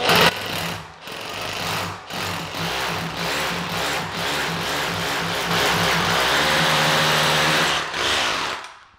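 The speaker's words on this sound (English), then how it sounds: "This one makes short work of drilling into masonry." A battery-operated SDS drill hammers into masonry with a loud, continuous rapid pounding that runs several seconds, with brief pauses and pitch shifts as the bit bites through the wall.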